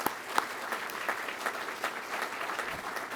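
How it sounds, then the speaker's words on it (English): Applause at an undergraduate pilot training graduation ceremony for instructor pilots, a steady crowd clapping filling the hall at moderate volume, continuous throughout. "please, a special round of applause for our instructor pilots"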